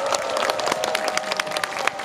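An outdoor crowd applauding and cheering a traditional Korean lion dance at a banquet reenactment, with dense continuous clapping and scattered shouts over a steady sustained tone.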